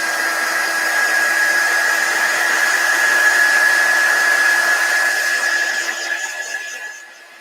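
A hair dryer blows steadily at close range to dry chalk paste on a Dollar Tree plaque pumpkin. It gives a constant whining whoosh that runs for several seconds and then winds down and stops near the end.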